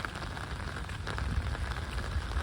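Steady rain falls outside, a close, dense hiss of drops pattering on wet surfaces with no pauses, loud and unbroken throughout.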